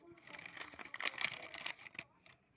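Packaging of a surprise box crinkles and rustles as it is opened, a busy run of crackling bursts close by that fades out near the end.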